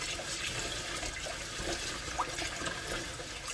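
Glutinous rice is rinsed in water, a continuous close sloshing and running-water wash with faint swirling splashes throughout.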